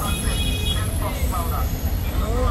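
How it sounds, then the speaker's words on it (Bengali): A fast double-engine freight train passes a railway level crossing near Panagarh, a continuous heavy rumble and rattle of wagons close by, with faint squeals, while people talk over it. "মালগাড়ি সুপার ফাস্ট"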